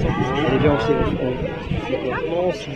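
Cows mooing at a city farm event at La Villette, low bellowing calls close by, mixed with crowd chatter and nearby speech.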